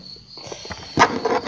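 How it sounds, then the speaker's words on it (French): Crickets chirping in a steady, thin high drone, with a few louder knocks and thumps breaking in partway through. "On a les grillons maintenant."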